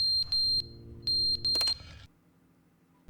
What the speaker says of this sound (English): I hate that beeping